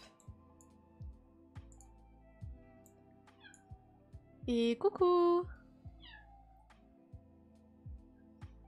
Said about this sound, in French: Ah bah, arrête de miauler.